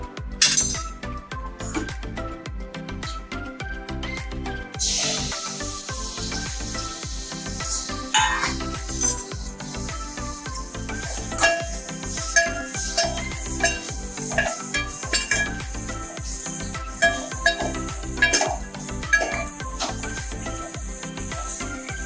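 Turmeric- and salt-coated mutton pieces tossed into hot oil for a spicy mutton curry, with a steady sizzle under repeated metallic clinks and scrapes of a spoon stirring in the pan, close and continuous.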